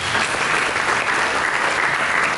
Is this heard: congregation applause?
yes